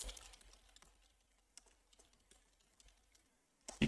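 Computer keyboard typing while coding Verilog, a quiet run of soft scattered keystrokes with short pauses, ending in a couple of louder clacks.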